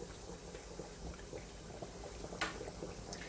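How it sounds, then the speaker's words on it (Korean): Breaded chicken pieces slid into hot oil for Chinese-style fried chicken give a faint, continuous sizzle with scattered small crackles and pops, quiet and fairly close, with no talking. "천천히 던지시면 그 기름이 나한테 튀기 때문에 이렇게 얌전히 밀어 넣어주세요."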